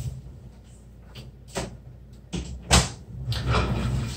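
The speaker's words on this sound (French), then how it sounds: "je vais juste fermer ma porte parce qu'on entend ma fille." A door in a home is pushed shut, giving a few soft rustles and bumps and then one firm thud near the end, heard close up and without speech.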